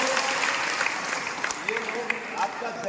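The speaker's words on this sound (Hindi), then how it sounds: "जोरदार तालियां बजाएं" Crowd applause at a village gathering about government welfare schemes: a steady wash of clapping from many people, with a few sharper individual claps and some voices mixed in.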